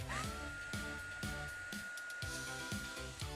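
Heat tool blowing steadily to melt embossing powder on a charm, a continuous whirring hiss with a faint whine, quiet and close, broken by soft rhythmic ticks.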